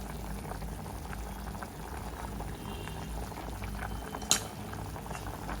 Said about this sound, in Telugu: దీన్ని ఒక 10 మినిట్స్ పాటు మసలనివ్వాలి.